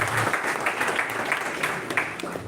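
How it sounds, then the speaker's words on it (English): Applause from the audience at the inauguration ceremony of a national-level oratory contest, a steady wash of many hands clapping at moderate volume that fills the room from start to finish. "Give a big round of applause"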